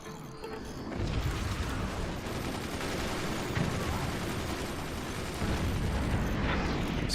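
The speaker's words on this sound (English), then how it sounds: "These cannons from on high, they cause problems." Cannons firing in the real-time strategy game Forts, a continuous dense barrage of booming shots and impacts rumbling throughout at steady high intensity.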